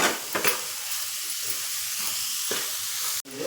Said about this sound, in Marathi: गूळ आणि खोबरं असं भाजून घ्यायचं